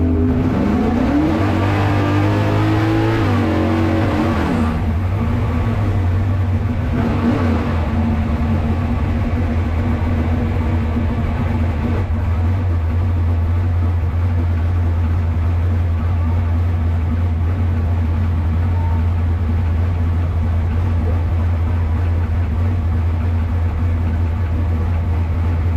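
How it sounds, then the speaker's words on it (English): A 4000-horsepower Camaro doing a smoky burnout: a loud, close engine roar revs and shifts early on, then settles into a sustained heavy drone that lasts throughout. "off you go with your big smoky burnout."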